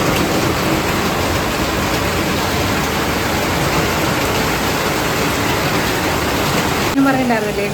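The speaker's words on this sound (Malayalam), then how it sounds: "പുറത്താണെങ്കിൽ ഭയങ്കര മഴയാണ്." Heavy rain pouring outside, a dense steady hiss like a downpour filling the whole clip at constant loudness, with a short voice entering right at the end.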